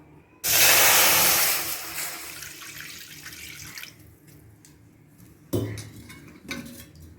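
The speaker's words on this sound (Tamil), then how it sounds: "இப்போ இந்த வாழைக்காய் வேக வைக்கிற அளவுக்கு தண்ணி ஊற்றிக்கும்." Water poured into a pan for boiling raw banana: a loud, hissing gush lasting about a second, then fading trickles and light clinks of pan and utensils, with a brief second splash near the end.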